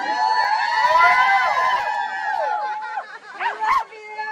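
A crowd at an anti-lockdown protest cheers: many overlapping voices whoop and call in rising and falling tones, sustained and loud, then thinning and tapering toward the end.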